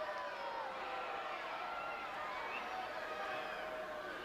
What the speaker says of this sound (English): Listening to the roar of this crowd.